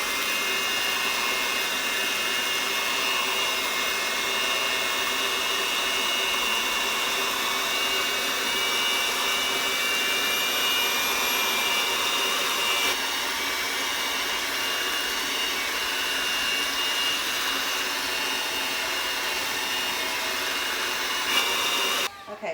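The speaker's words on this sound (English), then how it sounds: "now it's time to just mix it all together." Electric mixer whirring steadily as it beats lime raspberry mousse batter in a bowl, a constant close, fairly loud motor drone lasting the whole stretch and cutting off at the end.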